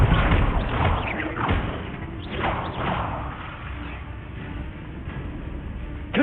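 Spell blasts from Confringo and Bombarda cast in Hogwarts Legacy: a run of dull thumps and whooshing bursts over a steady broadband rumble, loud and close, repeating irregularly across the span.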